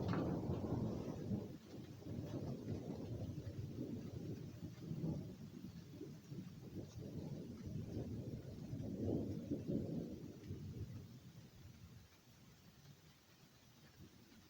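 Thunder from a severe thunderstorm over Mather, Pennsylvania rolls as a long, low, distant rumble that swells and ebbs for several seconds before fading to a faint background.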